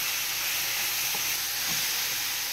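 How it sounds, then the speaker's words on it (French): Mushrooms cook in a pan with an even, steady sizzling hiss throughout, fairly quiet and close, with faint low clatter in the background and no voices. "I'm going to let the mushroom cook for about 5 minutes."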